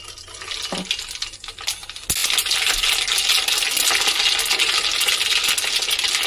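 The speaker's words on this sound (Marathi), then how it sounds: "इथे मी फोडणीसाठी तेल गरम केलेलं आहे, त्याच्यामध्ये मोहरी घालून घ्यायची।" Mustard seeds dropped into hot oil for tempering a raw mango pickle crackle and sizzle loudly and continuously after a sharp onset, close with no talking.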